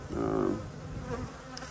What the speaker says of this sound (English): So this is brood right here. There's that bee.